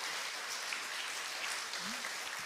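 A church congregation applauds at a missionary sending service, steady dense clapping heard from a distance, fairly faint, with no talk over it.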